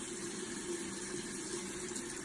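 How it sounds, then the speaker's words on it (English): Warm water runs steadily from a tap into a sink while dirty makeup brushes are rinsed, a soft, even hiss with no break and no voices. "And just warm up the water."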